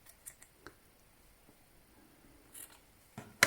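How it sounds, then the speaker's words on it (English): Scissors snip through loops of yarn while making a tassel for a craft unicorn, a few quiet, scattered clicks and cuts, then a sharper snip at the end. "And then cut through the loops."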